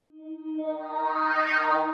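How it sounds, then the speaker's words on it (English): A riser made from a reversed synth one-shot, a sustained tone that swells steadily louder and brighter over two seconds, with harmonics spreading upward as it builds, heard alone. "I just created a little riser with, this is like a synth one shot that I reversed"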